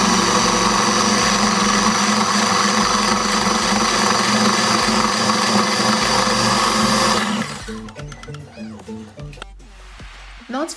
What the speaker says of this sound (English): Preferably, I'll be using my mixer to mix this in, giving it a smoother consistency.